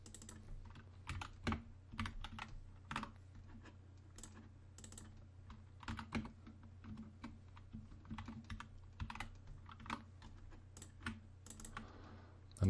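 Steady typing on a computer keyboard while entering drum sample names into a Max/MSP patch, with irregular bursts of clicking keystrokes close by and a low hum underneath.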